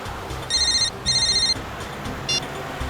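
A telephone rings in electronic, warbling bursts during a crime drama scene: two long rings, then a brief third chirp, clear over a faint room background.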